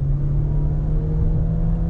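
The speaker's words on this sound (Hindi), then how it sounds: "आई होप आप आवाज सुन पा रहे हो इतनी मीठी प्यारी आवाज है like a small race car" Mahindra Scorpio N petrol SUV engine held at full throttle, a steady loud droning hum with a strong low tone, continuous and close throughout with no talking.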